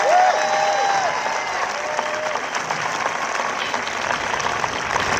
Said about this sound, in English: Let's give the class of 2025 a round of applause